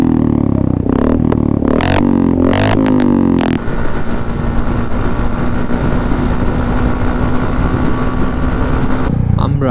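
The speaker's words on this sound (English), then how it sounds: "I'm riding the Hunter 350 with the SC exhaust." A Royal Enfield Hunter 350 motorcycle fitted with an SC Project exhaust, loud and close, with several sharp revving bursts at first and then a steady, droning engine note that runs on for several seconds.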